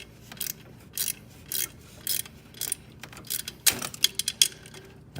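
A wrench ratchets a 10 mm nut tight on the alternator cable of a 2006 Scion, in short repeated bursts of clicking with pauses between strokes. The clicks come faster and sharper toward the end, close up and with no talk.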